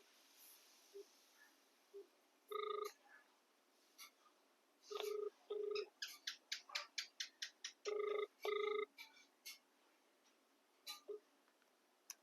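An unanswered phone call rings out in repeated paired electronic tones separated by pauses, with a quick run of short beeps in between before the line cuts off. The sound is close and clear over a quiet background.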